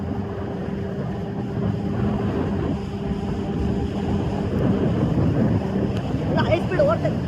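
A jet ski races across open water at high speed near Dubai, a steady engine drone mixed with rushing water and wind buffeting the microphone, continuous and close throughout.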